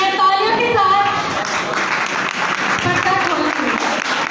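Applause at a Christmas church program at an Assemblies of God church, a steady dense clapping that fills the whole stretch, with voices mixed in underneath.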